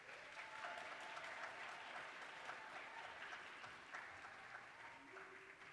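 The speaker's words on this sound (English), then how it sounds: "Can you give them a round of applause?" A high school combined choir receives steady applause from a concert audience at a spring choir concert. The clapping is faint and distant, a dense, even patter that lasts the whole stretch without a break.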